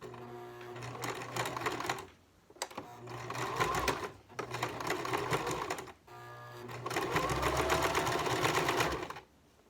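A regular home sewing machine stitching cushion piping, loud close rapid mechanical chattering in four bursts of a couple of seconds each, separated by short pauses.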